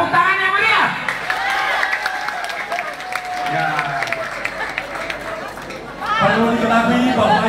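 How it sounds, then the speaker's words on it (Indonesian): A political rally crowd in Purbalingga, gathered for Sandiaga Uno and Zulkifli Hasan, claps and cheers amid loud chatter, while a voice speaks over the noisy gathering. "Tepuk tangan!"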